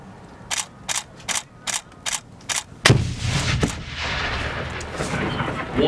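On a US Marines training range, a row of six or seven sharp, evenly spaced mechanical clacks leads into a heavy grenade blast whose rumble rolls on and slowly fades.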